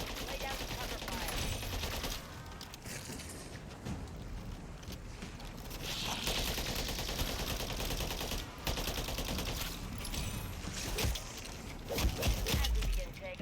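Sustained covering fire in Call of Duty: Modern Warfare III, a dense wash of rapid gunshots and bursts that keeps going under a voice, with a few louder sharp cracks near the end.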